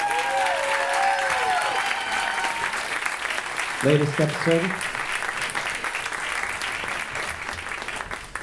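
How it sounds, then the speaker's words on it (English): An audience applauds after an episode screening of Soon By You, sustained crowd clapping heard throughout while a voice speaks over it briefly midway. "One more round of applause for the"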